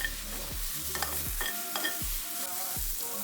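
Prickly pear cactus pads (nopales) frying in a pan, a soft steady sizzle broken by a few scraping stirs and clatters from a utensil, close and quiet with no talking.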